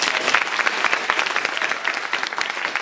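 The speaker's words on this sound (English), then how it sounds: "let's give them a round of applause" Sustained applause from a seated audience thanking a panel of speakers at a discussion event, dense steady clapping filling the whole stretch at even loudness.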